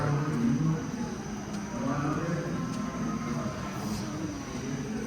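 A low, steady rumbling drone like a train rolling along, played at a railroad museum exhibit in Washington, DC, continuous and moderately loud, with a faint high-pitched whine above it.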